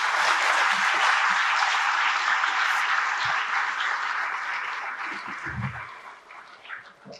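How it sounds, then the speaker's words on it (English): An audience at an awards felicitation for young achievers gives a loud, sustained round of applause that slowly fades over several seconds, with scattered voices near the end. "Let us give another huge round of applause for these young minds."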